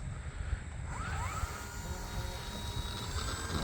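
An E-flite Cirrus SR22T RC plane's electric motor whines steadily at close range during takeoff, a constant buzzing drone with a brief rising pitch sweep and no speech.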